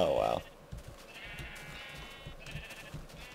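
A Minecraft sheep gives a loud, short bleat right at the start, followed by quieter game ambience and soft footsteps-like thumps for the remaining few seconds.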